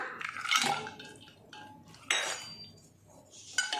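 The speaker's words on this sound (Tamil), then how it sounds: "அதுக்கு அப்புறமா ஐஸ் கட்டி சேர்த்துக்கலாம்" Ice cubes clink into a glass of nannari sherbet, a few short close clinks and rattles in a quiet kitchen, with no talk.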